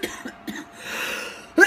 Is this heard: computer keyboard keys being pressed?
no